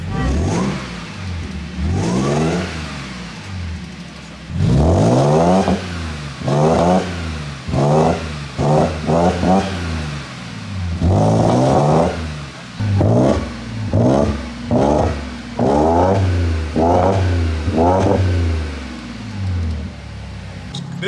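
A rebuilt Audi A7 engine on its first start revs hard in a long series of repeated bursts, each climbing and falling back to a rough idle between blips, loud and close.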